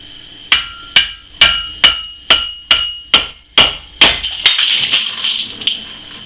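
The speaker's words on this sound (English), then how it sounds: "I'm using a rubber mallet because, again, glass." Nine sharp, evenly spaced knocks of a rubber mallet on a glass bottle's cap, each ringing briefly, followed by a denser clatter of glassy hits at the end as the glass breaks.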